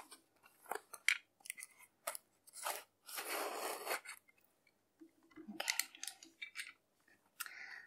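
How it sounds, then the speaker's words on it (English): Scissors snip through sellotape sealing a beauty box, in close, crisp cuts and crinkly rustles, with a longer tearing scrape in the middle and scattered quieter snips after. "First, I need to cut the sellotape that's sealing the box."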